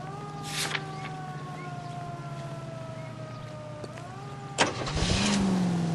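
A car in L.A. Noire idling under a steady tonal hum, then a sharp starting crank followed by a rising engine revving up as it pulls away.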